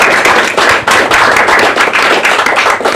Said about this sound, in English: All right, let's give our panelists a round of applause.